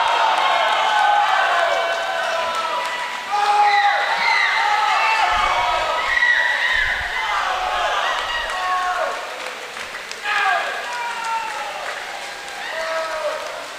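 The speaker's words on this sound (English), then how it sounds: "Teammates cheering him on." A crowd of teammates cheers and shouts at a boys' high school swim meet, a continuous busy wash of voices, whoops and clapping with an announcer talking over it.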